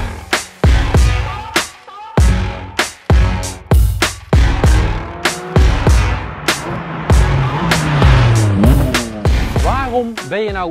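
Porsche 718 Cayman GT4 RS flat-six revving hard to the top of its range, rising in repeated sharp, loud bursts with gear changes, close and dominant throughout.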